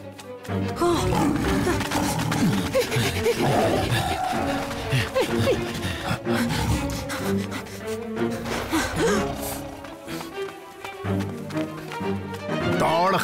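Deep, sustained roaring from the tiger Shere Khan in an animated Jungle Book story in Hindi, loud and continuous over a busy cartoon soundtrack of music and effects.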